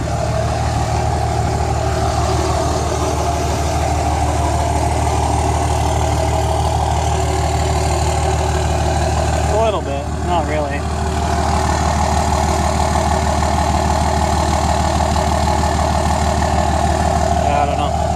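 Tuned Cummins diesel engine idling in a single-cab truck, a steady loud low rumble with a clattering tone that holds throughout, with brief voices talking over it midway.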